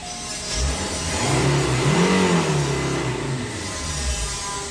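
A Ford Everest repaired after being sunk in a flood starts and revs, the engine note climbing into a rising whine, peaking, then settling back toward idle, fairly close and loud with no talk.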